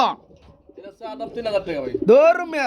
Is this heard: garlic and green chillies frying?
no